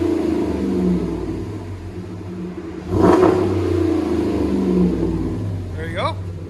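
A 2017 RAM 1500 with the 5.7L Hemi and Gibson cat-back dual exhaust rumbles at idle, then blips into a sharp throttle rev before settling back, deep and close, with people talking over it.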